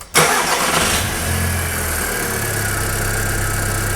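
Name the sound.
car engine being started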